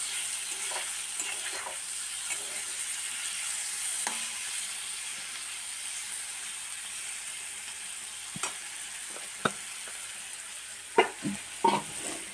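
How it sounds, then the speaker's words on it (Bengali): Radish sizzles and fries in oil with cumin, coriander powder and a little sugar, a steady background crackle broken by occasional sharp clinks and scrapes of stirring, louder toward the end. "এইগুলো সব দিয়ে এখন আমি লাল করে মূলোটা ভেজে নেব"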